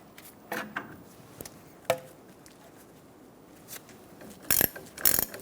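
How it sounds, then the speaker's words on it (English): A hand ratchet snugs down the lower ball joint nut on a 2014-2018 Chevrolet Silverado 1500 steering knuckle, giving a few scattered clicks and a quick burst of ratcheting near the end amid quiet shop ambience. "Hold the stud and snug down the nut."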